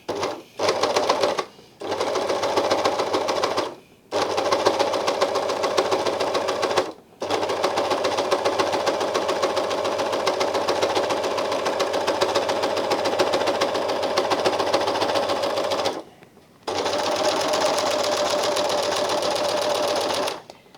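An Elna Elina 792D serger stitching a row, its fast steady mechanical whir running in long bursts broken by several brief stops, close and alone without speech.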